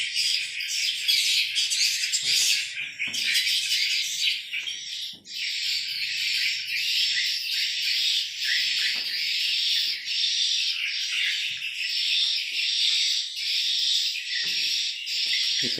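Dense, continuous chorus of swiftlets chirping and twittering inside a 4x12 swiftlet farming building in East Kalimantan, many birds calling at once, loud and close with a brief dip around five seconds.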